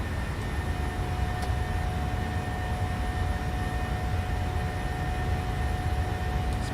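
Jet engines of a PMDG 737-800 at climb power in Microsoft Flight Simulator give a steady, moderately quiet cabin roar with a constant broadband rush and faint tonal hum, unchanging throughout.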